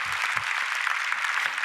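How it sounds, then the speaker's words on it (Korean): A church congregation claps together in a brief burst, dense and steady, heard from a moderate distance. "다시 한번 이 박수 좀 한번 해보세요"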